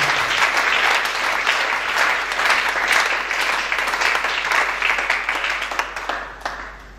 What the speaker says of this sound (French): Acclamons pour Jésus.